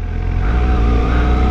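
A Suzuki GSX-750S motorcycle engine revs up as the bike pulls away, a loud, close rising drone over a short burst.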